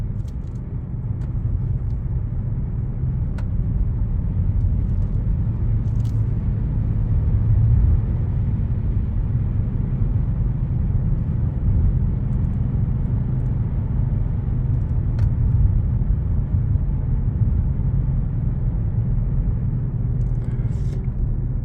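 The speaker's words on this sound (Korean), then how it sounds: "타이어가 펜마모가 일어나면 윙 우르르 이럽니다." Steady, loud low rumble and hum inside a moving Genesis G380 sedan at about 65–70 km/h on a rough road surface, caused by unevenly worn tires, droning on continuously with no talking.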